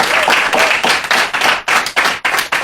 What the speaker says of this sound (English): So can we please have a round of applause for Avicii?